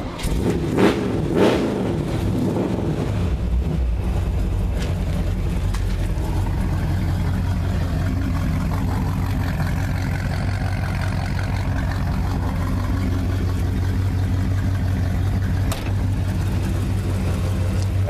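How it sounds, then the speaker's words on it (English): A 1954 Ford F100 pickup with a 3-inch exhaust cranks over and catches, then settles into a loud, steady low rumble at idle, heard close and alone with no talking. "I'm going to just start it up now, make sure it's in neutral."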